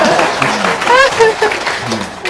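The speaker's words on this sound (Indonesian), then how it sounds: "Tepuk tangan dong." Audience applause at an Indonesian religious talk, clapping mixed with voices and a brief tonal vocal sound, moderately loud and short.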